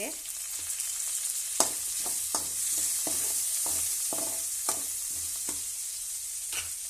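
Onions and curry leaves frying in oil in a pan, a steady sizzle with a run of sharp scraping stir strokes every half second or so, close and fairly loud, with no talking.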